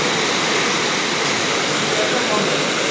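Steady, loud broadband rush of water flowing into a flooded house, continuous and close with no breaks over the whole stretch.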